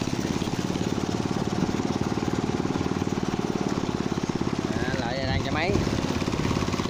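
A small boat engine runs steadily on a fish-farm pond trip, its rapid, even chugging loud and close throughout, with a voice talking over it briefly near the end.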